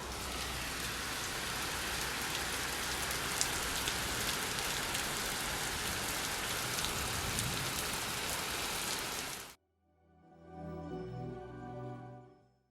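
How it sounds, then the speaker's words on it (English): Heavy rain pours steadily in Texas in dark conditions, a dense, loud, continuous roar for about nine and a half seconds before cutting off abruptly, followed by a quieter, softer patter. "This rain is crazy."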